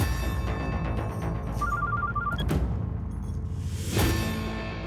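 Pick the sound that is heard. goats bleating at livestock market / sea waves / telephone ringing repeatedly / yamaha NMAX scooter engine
telephone ringing repeatedly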